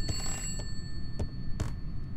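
Ringing telephone in the horror game Contempt, a faint sustained high tone held under a low rumbling ambience with a few soft thumps.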